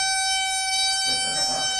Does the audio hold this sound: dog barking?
no